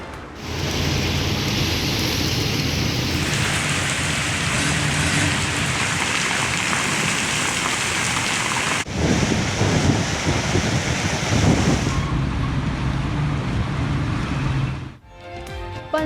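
Heavy monsoon rain pours down in Lahore, a steady dense hiss that runs unbroken and loud the whole time, with a brief change in texture midway and a short dip near the end.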